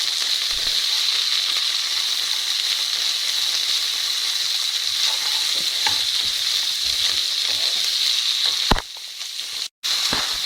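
Capsicums frying in a pan for chilli paneer make a loud, even, hissing sizzle that runs steadily with occasional light stirring clicks, briefly dipping and cutting out near the end.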